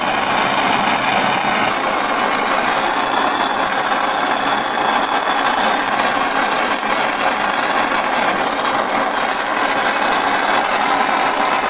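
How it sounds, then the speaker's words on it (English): A big chunky gas torch roars steadily while heating a solder joint, a continuous broadband whoosh held at constant loudness, close and loud, with no speech. "I'll see if I can use this big chunky torch, rather than wasting my gas on my other one"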